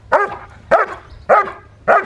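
A young German Shepherd gives four sharp barks, evenly spaced about half a second apart. The barks are loud and close, with no talk over them.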